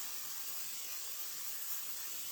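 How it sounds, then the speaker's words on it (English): A pumped kitchen spritzer sprays oil onto a double burner grill pan, giving a soft, steady hiss that lasts the whole moment without pause. "Give it a little spritz."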